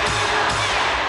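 A packed basketball arena crowd at a 1993 NBA playoff game between the Bulls and Cavaliers in Cleveland roars and cheers steadily, a dense, sustained wash of many voices with no pause.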